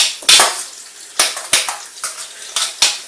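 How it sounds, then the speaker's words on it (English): A spoon stirs butter as it melts into food in a pan, giving several sharp scraping clacks against the pan at an irregular pace, close and fairly loud with no talk. "just going to give it a good stir around, get all that butter melting into it"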